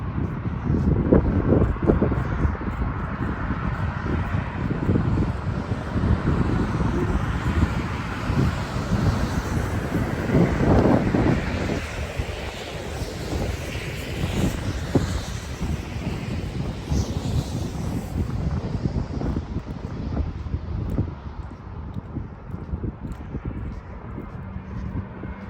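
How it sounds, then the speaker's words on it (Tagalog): Strong cold wind blows steadily outdoors along a street with houses near a stoplight in Canada, a loud continuous rushing and microphone buffeting with gusts, passing traffic faintly beneath. "Lakas ng hangin na malamig."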